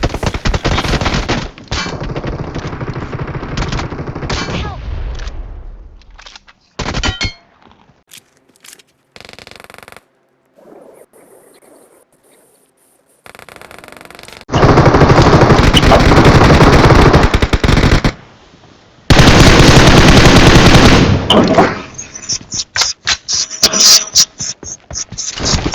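Bursts of machine gun fire from the PUBG Mobile video game, loud sustained volleys broken by short pauses and single shots, with the heaviest fire coming in long stretches near the end.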